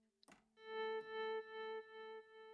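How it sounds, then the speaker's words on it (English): Guitar through a Boss GT1000core with delay: a pick attack, then sustained tones repeating in echoing swells that fade in steps, alone and fairly quiet. "Let me add some delay to that, so you can hear that difference."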